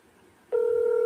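A telephone line tone on a call: after a short stretch of faint background hum, one steady electronic tone switches on abruptly and holds evenly to the end.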